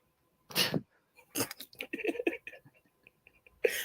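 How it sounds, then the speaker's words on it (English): A few short, sharp sneezes or sneeze-like bursts, separated by pauses, with soft breathy sounds and snuffles in between, fairly close. "Are you gonna sneeze for like an hour and a half?"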